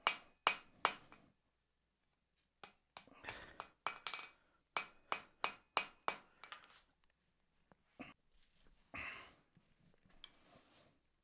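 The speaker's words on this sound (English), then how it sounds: "So now I'm just hammering that knife edge onto it" Steady hammer blows ring out as a blacksmith forges iron, in quick bursts of strikes separated by short pauses, each one sharp and clanging, close and loud.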